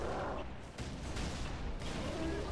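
Steady, sustained gunfire from Halo 3 combat, dense and continuous without clear gaps, moderately loud under the game's background mix.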